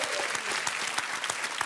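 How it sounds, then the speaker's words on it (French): A TV studio audience on a French dating show applauds steadily, a dense wash of many hands clapping at moderate volume with individual claps popping through. "On vous applaudit."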